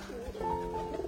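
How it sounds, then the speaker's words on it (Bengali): A white pigeon gives a close, low, throaty coo, one sustained rolling call with a faint hum of room noise behind it. "এই যে দেখো এখানে এসে কেমন ডাকে"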